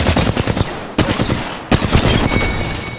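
Close, loud automatic gunfire in a video game, three sharp bursts of rapid shots separated by brief pauses, each volley dense and punchy.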